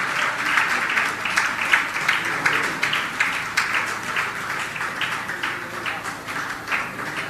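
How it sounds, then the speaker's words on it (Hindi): A crowd at a Jain religious gathering applauds steadily through an honouring ceremony, with dense, continuous clapping at an even level from start to finish. "आप तो तालियां बजाते रहिए बस।"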